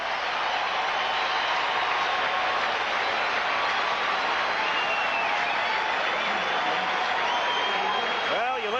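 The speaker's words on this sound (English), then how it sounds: "Well, you listen to that crowd." A packed baseball stadium crowd roars continuously at a 1980 Houston Astros versus Los Angeles Dodgers game after a pinch-hit single. The cheering holds at a loud, even level throughout.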